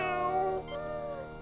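A cat in the Star Trek: Judgment Rites computer game gives a single drawn-out meow that rises and then trails off, heard clearly and close with no talking.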